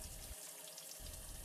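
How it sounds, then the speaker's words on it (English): Warm water runs steadily from a tap during hand rinsing, a continuous hiss of flow that briefly thins as hands move under the stream, with no voices present. "begin rinsing with warm running water, keeping fingers pointing down"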